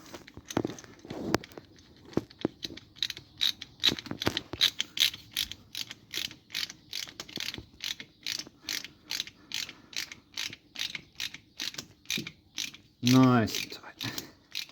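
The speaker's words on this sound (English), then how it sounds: "These ratcheting screwdrivers are really handy for this sort of thing." Ratcheting screwdriver tightening a fuel filter hose clamp on a Datsun 280ZX, a long rapid run of close, crisp clicking pawl ticks in steady bursts, ending with a brief squeaky creak.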